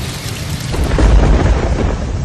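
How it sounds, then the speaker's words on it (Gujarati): Heavy rain pours down in a thunderstorm around Perambalur, a dense, loud roar of rainfall with deep rumbling thunder swelling through the middle. "પેરામ્બલૂર અને આસપાસના વિસ્તારોમાં ગાજવીજ સાથે વરસાદ વરસ્યો હતો"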